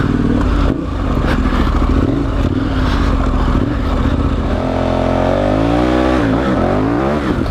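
A motorcycle rides through deep sand, its engine loud and close, revving and bogging with rising and falling pitch sweeps throughout.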